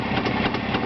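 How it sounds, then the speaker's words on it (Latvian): A car engine idles after a gentle 175 km test drive, giving a steady, smooth rumble with a faint regular pulse, close and fairly loud, with no one talking over it. "Motors ļoti labi rūs"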